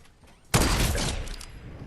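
A sniper rifle shot in Fortnite cracks out sharply, then a loud burst of gunfire and crashing impacts follows, staying dense and close for over a second.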